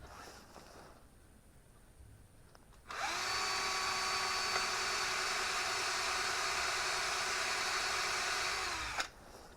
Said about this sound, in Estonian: Puurime spindliaugud, teravikaugud, see ja see.